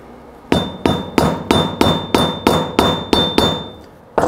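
A sharpened flathead screwdriver is struck repeatedly to pry a lower bearing race off a fat suspension fork, giving about eleven sharp, evenly spaced metallic hammer blows, loud and close, with a faint ringing tone.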